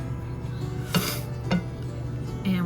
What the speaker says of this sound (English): And we're just going to stir that up